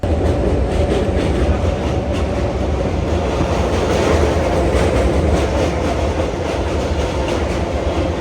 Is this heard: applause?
no